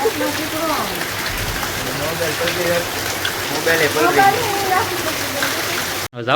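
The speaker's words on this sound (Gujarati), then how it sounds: "હવે વરસાદ થોડોક ધીમો પડી ગયો છે" Steady rain patters and hisses throughout, with people talking over it close by.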